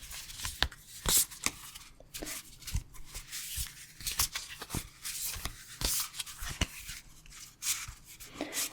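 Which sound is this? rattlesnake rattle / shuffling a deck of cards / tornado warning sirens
shuffling a deck of cards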